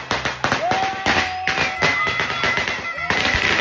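Rapid, sharp firecracker pops crackle in dense irregular bursts nearby, with whistling tones threading through the barrage.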